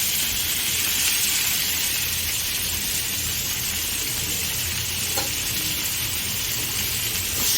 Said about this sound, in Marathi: आता ही भाजी आपण जी घेतलेली आहे ती टाकूया आणि चांगली परतून